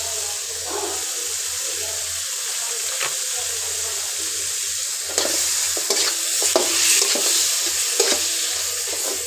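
Fish dropped into spiced masala frying in a pan for a bitter gourd (korola) curry, a steady close sizzle with stirring scrapes and louder bursts partway through.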